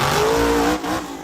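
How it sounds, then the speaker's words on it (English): A monster truck engine revs hard under driver Tim Jones at a muddy night show in Miami, Oklahoma, a loud sustained roar with a rising pitch that dips briefly near the end. "Here's the Monster Blog 20th anniversary truck driven by Tim Jones."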